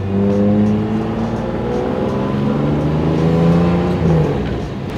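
A Toyota Supra sports car drives and accelerates, its engine note climbing and wavering in a loud, close, continuous whine.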